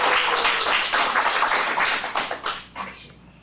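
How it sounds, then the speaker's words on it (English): An audience at a kids' dramatic film acting showcase applauds, a dense burst of clapping that tapers off into a few scattered claps. "Let's give her one more round of applause."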